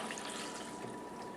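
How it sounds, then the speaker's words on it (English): Water poured from a tap or jug into a pan sitting on a stove, a steady broadband splashing and rushing that runs continuously and fairly loud throughout, with no talking. "go ahead and add your water."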